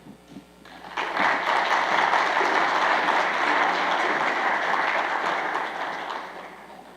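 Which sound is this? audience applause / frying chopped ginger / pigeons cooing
audience applause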